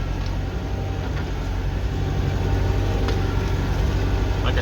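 A tractor engine runs steadily under load while ploughing a grass field, a loud continuous mid-pitched drone with no pauses and no talking.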